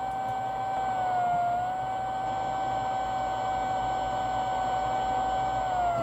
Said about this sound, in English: So I'll turn it up so you can hear the motor.